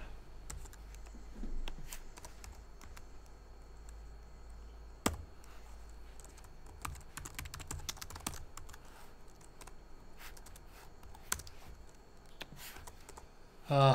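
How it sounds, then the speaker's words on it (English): Someone types on a computer keyboard, a steady quiet patter of soft key clicks with occasional sharper taps, heard close and faint with a low background hum. "I know I'm a horrible typer, sorry."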